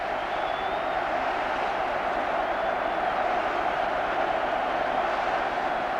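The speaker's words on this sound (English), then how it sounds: "the vast crowd inside the stadium welcome the teams" A vast stadium crowd at the 1982 FA Cup Final welcomes the teams with a continuous distant roar of cheering that holds steady throughout, with no clear breaks.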